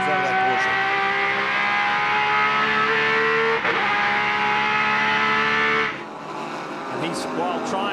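A Porsche race car with a 6-speed gearbox screams near 9,000 revs, holding a loud, sustained high-pitched engine note with a sharp drop at a gear change, under a race commentator's voice.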